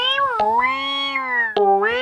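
A person imitates a cat, giving two drawn-out, whining meows back to back, loud and close, with no other voices.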